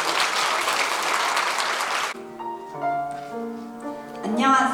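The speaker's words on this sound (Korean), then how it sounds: "다시 한번 큰 박수 부탁드립니다." Loud, dense applause from wedding guests at a Seoul hotel ceremony, then it cuts off abruptly as soft piano-like music takes over.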